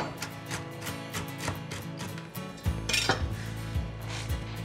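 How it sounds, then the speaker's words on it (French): Pecans chopped coarsely with a knife on a board, with a quick rhythmic series of close, sharp chopping taps that grow heavier toward the end and no talking. "J'ai des pacanes que je vais hacher grossièrement."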